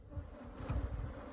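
Africanized honeybees full of drones buzz around a hive, a low droning hum with overlapping wingbeat swells, fairly close and soft, with no voices.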